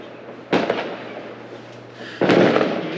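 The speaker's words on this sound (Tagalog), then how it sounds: "Putukan na rin po dito." Fireworks and firecrackers going off around midnight at New Year, two loud nearby bursts with crackling tails, set against a low steady hum and faint background noise.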